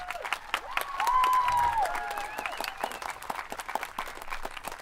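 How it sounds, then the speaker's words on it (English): A school crowd applauds two student aides, a moderate round of scattered clapping with a bright whistle-like tone and a few cheers rising over it, tapering to sparse claps. "please give them a round of applause"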